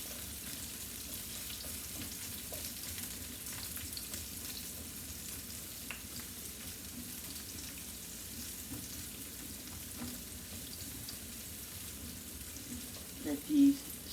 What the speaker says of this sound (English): Let these saute a little bit.